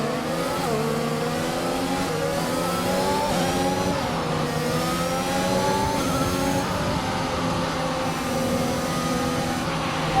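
Vettel's Aston Martin F1 car in the F1 2021 game at the Bahrain race start holds high revs, the engine's pitch rising and wavering in steady, loud layers with no talk over it.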